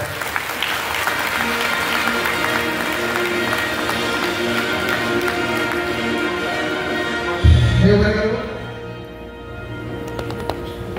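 A room full of people at a government scheme launch event claps steadily for several seconds, then the applause thins out and fades as a low thump sounds.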